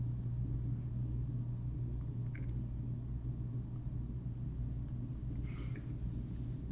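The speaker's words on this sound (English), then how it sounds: "Now we're driving towards the out of town." A car drives slowly through the streets of McGregor, Iowa. A steady low engine and road rumble continues throughout, with faint brief noises above it and no talking.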